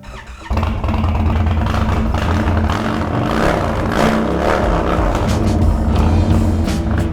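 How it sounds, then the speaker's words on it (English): A custom Indian Sport Chief motorcycle engine runs loud and close, starting abruptly and then holding a steady, rumbling throb with slight swells throughout. "This bike rides so good, and it fits perfectly, it handles perfectly, it sounds sick."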